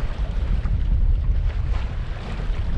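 A sailboat under sail at sea between Orpheus Island and Dunk Island, heard as a loud continuous rush of wind buffeting the microphone over a low, rumbling wash of water.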